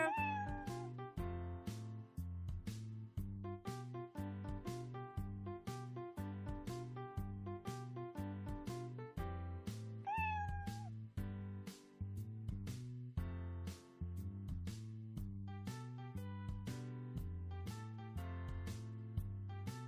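Repeated cartoonish cat meows ring out over a bouncy, steady music loop in an Android kitty game, with one rising meow standing out midway.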